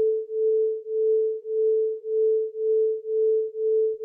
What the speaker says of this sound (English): And now I'm going to add in another sine wave at 438 hertz. So 2 hertz off.